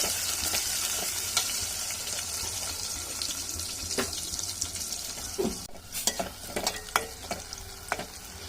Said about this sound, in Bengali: পেঁয়াজটা ভালো মতন ভাজা হয়ে গেছে